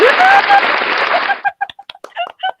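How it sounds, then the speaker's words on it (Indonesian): Short burst of applause for participants in a teacher-training session, loud clapping for about a second and a half, then breaking into a few scattered, fading claps. "Tepuk tangan dong untuk kalian, luar biasa."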